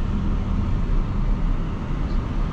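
A 2020 Porsche Cayenne Coupe S engine and exhaust under way on a night drive, a steady, loud, dense low rumble with road noise that holds evenly throughout with no talk.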